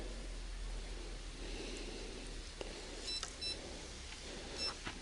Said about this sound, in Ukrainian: Я леску уберу, щоб не пікало